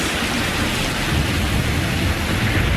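Steady, dense rain-like rumble with a deep low roar, continuous and loud throughout, like a stormy downpour with thunder rolling underneath.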